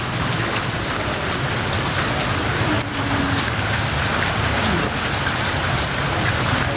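Heavy rain falls outdoors as a loud, dense and steady wash of patter on surfaces, continuous throughout with no talk.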